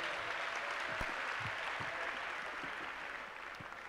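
Applause from an audience at a Valentine's evening church gathering, a steady wash of hand clapping at moderate volume filling the room, slowly thinning toward the end.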